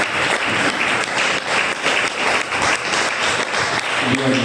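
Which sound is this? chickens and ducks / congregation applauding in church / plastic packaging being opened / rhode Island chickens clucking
congregation applauding in church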